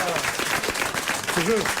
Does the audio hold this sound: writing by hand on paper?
no